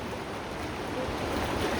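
A broad, steady rush of flood water from heavy rain fills the clip, a constant roaring wash without pauses or voices.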